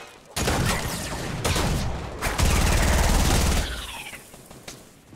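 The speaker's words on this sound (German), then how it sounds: "Oh, von oben. Schießen welche." Heavy gunfire rattles from above in Fortnite, with several loud, close bursts of rapid shots following one another and fading near the end, and no voices over it.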